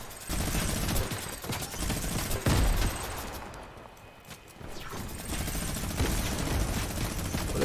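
Gunfire from a teammate in Fortnite rattles in rapid sustained bursts at moderate distance, easing into a brief lull midway before the shooting picks up again.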